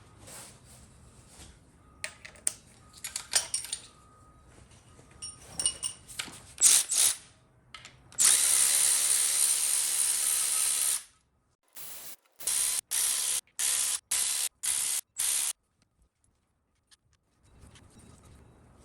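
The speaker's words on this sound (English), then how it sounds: "And now we're going to go ahead and remove the timing cover bolts." A ratchet and air tool work the timing cover bolts on a small-block Chevy LT1 5.7L engine: scattered close clicks and clanks, then a long loud hissing burst and several short rapid bursts, with no talk.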